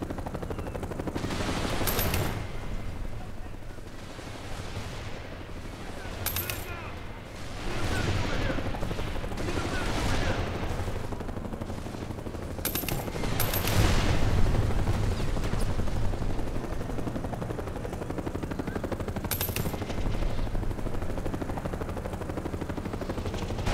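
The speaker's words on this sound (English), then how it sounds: "Okay, that tank would be shooting at me." Tank cannon and rapid gunfire in the Mercenaries 2 video game, with loud bursts and booms repeating every few seconds over a dense, continuous battle din.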